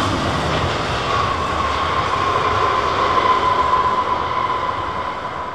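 An airliner brakes hard after landing at London Heathrow, giving a loud, steady, close roar with a thin whine running through it. It holds at the same level for the whole stretch, with no voices.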